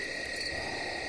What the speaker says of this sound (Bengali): গোটা পার্বত্য জঙ্গলে শুধু ঝিঝি পোকার ডাক।